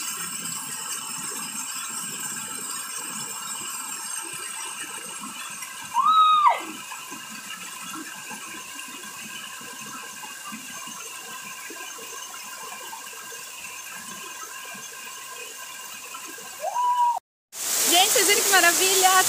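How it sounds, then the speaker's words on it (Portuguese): A waterfall on a hiking trail rushes as a constant broad hiss for about twenty seconds, with a couple of brief squeaky tones and a sudden louder surge of roaring water at the end. "E a cachoeira também tem mais água, mas tá gostoso."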